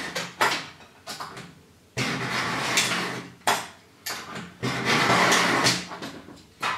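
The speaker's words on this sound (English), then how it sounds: "you start with the knife to scorch the material like that" A knife scores sheet metal for a scale model, giving repeated rough scraping strokes, each a loud, close burst of rasping noise lasting about a second, separated by short pauses.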